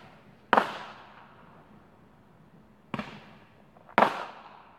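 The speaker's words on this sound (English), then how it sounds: "somebody's popping some fireworks." Fireworks pop outside in three sharp, loud reports, each followed by a short fading echo, with quiet gaps between the bursts.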